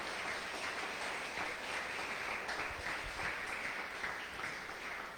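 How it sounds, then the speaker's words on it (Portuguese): Congregation applauding the Lord during a Portuguese-language church sermon, a steady, dense wash of clapping that holds at an even level throughout, moderately distant and without voices on top. "Dá aplauso ao Senhor, irmão, dá?"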